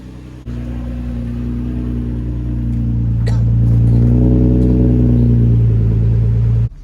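A car fitted with test pipes fires up, then its engine holds a loud, deep, droning idle that swells higher for a moment and eases back before cutting off. A voice comes in briefly over it.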